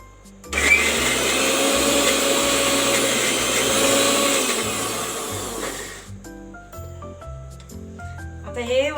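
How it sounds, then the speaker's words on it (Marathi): A kitchen mixer grinder whirs loudly for about five seconds, grinding brinjal stuffing with salt, a dense rising motor roar that cuts off abruptly, followed by quieter background sounds and faint tones. "मीठ घालून थोडंसं जरा परत हे मिक्सर लावायचं"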